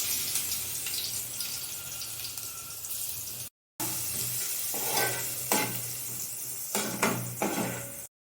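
Crushed garlic sizzling in hot oil for a Marathi tempering, a steady close frying hiss with stirring scrapes and clinks, briefly cut by a short silence partway through.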